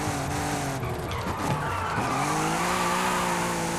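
In the video game Forza Horizon 5, an Audi RS4-R engine drones as tires skid and squeal through a drift, the engine pitch dipping and climbing again.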